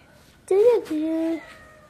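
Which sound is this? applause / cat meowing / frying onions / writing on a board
cat meowing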